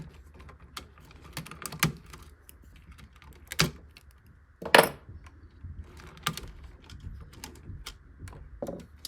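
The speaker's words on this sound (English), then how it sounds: "So I'm just going to go ahead and cut these orange wires out." Snips and clicks from cutters trimming orange wires out of a Fender Deluxe Reverb reissue amplifier, a few sharp, close transients scattered over a quiet background with light handling ticks in between.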